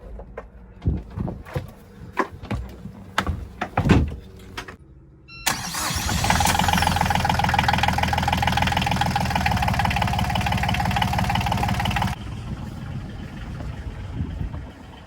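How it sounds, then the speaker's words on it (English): After some clicks and knocks, a Volvo Penta diesel engine on a sailboat cranks and catches, then settles into a loud, steady chugging idle that drops slightly in level near the end. "Engine started first time, so everything's all right with that."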